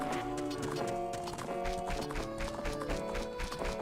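Horse hooves clip-clop in a steady galloping rhythm in the Ocarina of Time video game, mixed with bright game music and a brief whinny-like tone.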